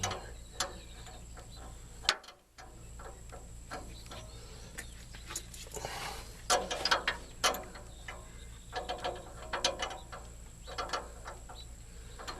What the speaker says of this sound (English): Give me one of these where you gotta flip the wrench over.